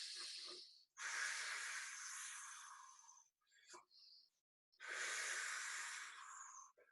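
Deep, deliberate exercise breaths during a core workout: two long forceful airy exhales of about two and three seconds, separated by short sharp intakes, close and loud with no voice over them.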